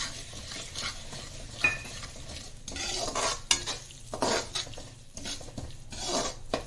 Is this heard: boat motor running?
no